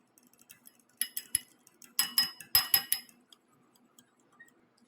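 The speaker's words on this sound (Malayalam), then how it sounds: "ഇനി ഇത് നല്ലപോലെ മിക്സ് ചെയ്യും." A small spoon stirs Bru coffee powder in a small bowl, giving bursts of quick clinking and scraping against the bowl, close and clear, with quieter taps around them.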